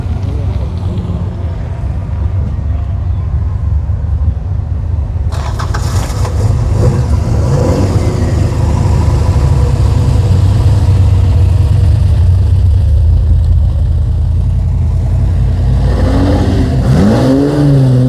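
A Mopar six-cylinder car engine runs loud and close at a car show, with a rough, throbbing idle building into a sustained rev and a final rising surge. Faint voices can be heard underneath.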